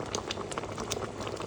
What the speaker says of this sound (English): you can see how the boiling is changing.